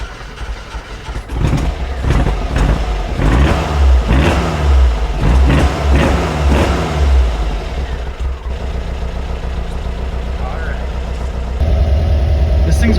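A 1967 Volkswagen Fastback engine runs loud and steady nearby, with rhythmic surges in the first half before settling into an even idle, while someone talks over it.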